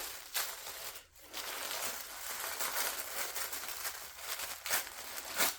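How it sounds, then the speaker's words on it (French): Packing tape is ripped and peeled off in a series of scratchy, crackling tears, close and fairly loud, with short pauses between pulls. "Je vais enlever les scotch, de toute façon ça se déchire."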